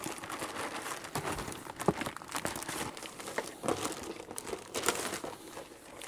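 Terrarium heating mats are unpacked from their plastic packaging, giving close, soft crinkling and rustling with occasional sharper crackles, fairly quiet and steady throughout.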